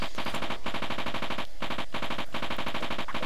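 Rapid continuous gunfire from the Amiga shoot-'em-up Hybris, a loud dense stream of repeated blasts with brief gaps, alone without talk.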